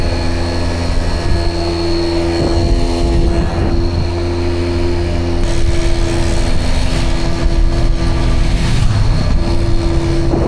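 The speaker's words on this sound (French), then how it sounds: "Le supplice là pour le moteur." The engine of a 1993 Booster scooter strains under load on a long road trip, a loud continuous droning buzz with wind roar, steady throughout with no talk.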